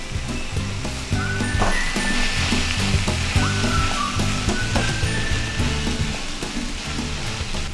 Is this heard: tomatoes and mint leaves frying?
yes